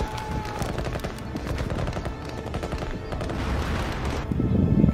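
Dense battlefield gunfire in a World War I trench scene, a steady crackle of rifle and machine-gun shots with heavier booms toward the end, loud and continuous throughout.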